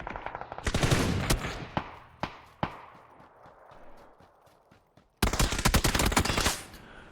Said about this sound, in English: A couple of people certainly shooting in that direction